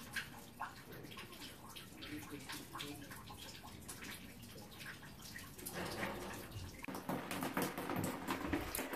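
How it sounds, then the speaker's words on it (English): A water tub catching a leak is emptied indoors, with continuous splashing and pouring that grows louder and more turbulent toward the end, heard up close. "Just emptied tub number"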